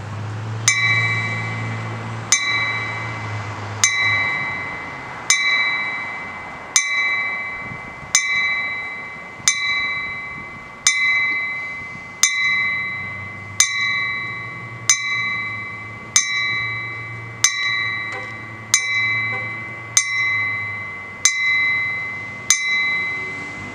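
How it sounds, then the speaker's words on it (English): A memorial bell tolled repeatedly at a tribute ceremony, about seventeen evenly spaced metallic strikes, each ringing clearly and fading before the next, with faint background sound between them. "our bell is sounded for each life lost"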